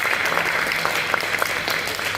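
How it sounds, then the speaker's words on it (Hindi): Audience clapping fills a hall at a business program held at the Bihar Chamber of Commerce in Patna, a steady dense patter of many hands throughout, fairly loud with no voices over it. "तो तालियां बजनी चाहिए।"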